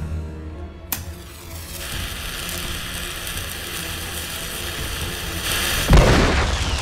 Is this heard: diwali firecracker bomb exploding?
yes